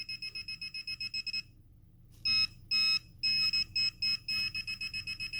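Budget metal detecting pinpointers, including waterproof SUNPOW and DR.ÖTEK units, sound off in rapid, evenly pulsed electronic beeps, a brief pause, then more overlapping beep bursts, loud and close with no talking.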